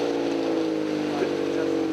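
A car's engine idles steadily with a loud, rumbling drone from an illegal aftermarket muffler, close by and unbroken for the whole stretch, with faint voices in the background.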